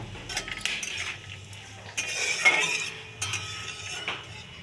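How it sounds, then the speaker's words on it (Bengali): Whole spices (cardamom, panch phoron, bay leaf and dried red chillies) dropped into hot oil in a kadai for ghugni, with metal clinks and utensil scrapes over a faint sizzle. "কড়াই দিয়ে দিচ্ছি তেল দিয়ে দিলাম ফড়ঙের কিছু জিনিস এলাচ তারপরে পাঁচ পাঁচফড়ং তেজপাতা শুকনো লঙ্কা"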